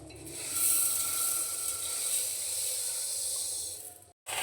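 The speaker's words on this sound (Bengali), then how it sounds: "এই সাবুগুলোকে এখন আমি গুঁড়ো করে নেব।" A mixer grinder jar grinds cooled sago pearls into powder, a loud whirring, rattling hiss that rises quickly, holds steady for about four seconds, cuts off briefly, then starts again.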